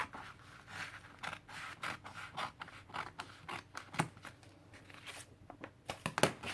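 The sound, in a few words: scissors trimming paper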